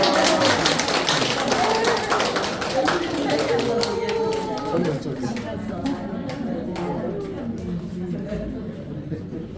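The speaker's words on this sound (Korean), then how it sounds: "네, 박수하겠습니다" A church congregation applauds after a prayer during a Sunday morning service, a dense patter of clapping that thins out over several seconds while voices chatter underneath.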